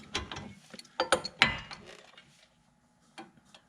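A ratchet turns a 10 millimeter socket on the front strut of a 2013 Ford Explorer, giving close, crisp clicking bursts of pawl ticks, then a short pause and a few more clicks.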